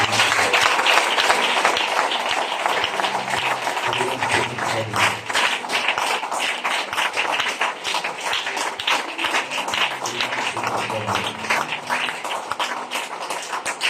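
A church congregation claps and cheers for the Lord during a sermon, a sustained dense patter of many hands with scattered voices mixed in, loud and continuous from start to finish.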